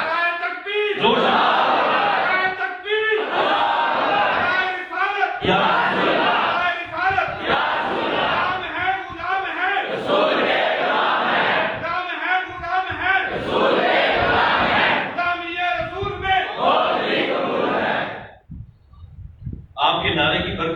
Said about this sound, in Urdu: سنیو زور سے کہو نا سبحان اللہ۔